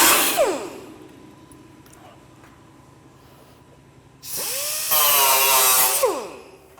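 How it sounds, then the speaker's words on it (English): Cutoff wheel slicing through metal during fabrication, two loud bright screeching bursts with the motor spinning down between them, close and alone. "I'll take this cutoff wheel here and I'll cut up just underneath my line"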